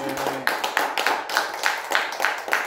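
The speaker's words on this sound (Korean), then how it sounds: "우리 하나님께 영광의 박수를 주는 것입니다." A congregation claps together in a church service, a brief burst of rhythmic, fairly close hand claps in a steady beat of roughly three per second.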